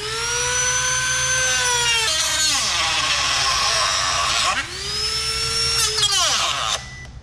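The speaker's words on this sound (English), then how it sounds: "gonna Dremel the shit out of it" A Dremel rotary tool cuts into a drift car's radiator fan shroud, giving a high whine that dips and rises as the tool bites and loads. Two long passes are heard close up.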